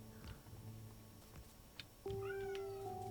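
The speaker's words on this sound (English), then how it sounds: "We're having some real meowing going on." A house cat meows indoors, faint at first against a quiet hum, then a clearer, drawn-out meow rises and holds near the microphone.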